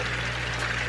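Water pours steadily into a jar for fish breeding, a continuous close splashing fill with broadband hiss and a low steady hum underneath, no pauses across the short stretch.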